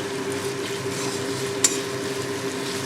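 Sliced onion and nigella seeds fry in oil in a kadai, giving a steady, fairly quiet sizzle with a single brief clink partway through and no talk.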